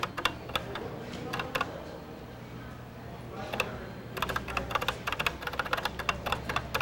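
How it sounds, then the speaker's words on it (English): Typing on a computer keyboard in an early-1990s office software demonstration: quick bursts of close key clicks, pausing and resuming, over a faint background hum. "The next thing I would do is I need to type in some categories."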